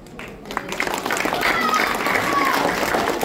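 Audience applause at a cosplay contest and prize-giving, building into steady clapping over a few seconds while a voice speaks over the start.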